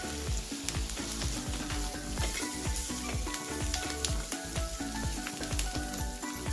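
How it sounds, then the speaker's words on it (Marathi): Pav bread heats in spiced pav bhaji masala spread across a hot tava, giving a loud, steady sizzle with rapid rhythmic spatula taps and scrapes throughout, no voices. "आणि हे पाव आपण त्यात छानपैकी गरम करून घ्यायचे."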